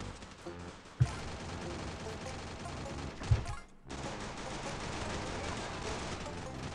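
Gunfire in the mobile shooter Free Fire, dense continuous bursts with two sharp louder shots and a brief gap, steady and fairly loud throughout.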